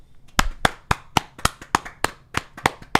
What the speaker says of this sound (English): We're both clapping.